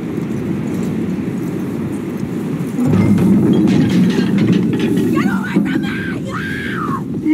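Horse hooves clip-clop on the ground amid outdoor ambience in the video game Red Dead Redemption 2, with a louder burst of movement midway and faint voices and animal calls later.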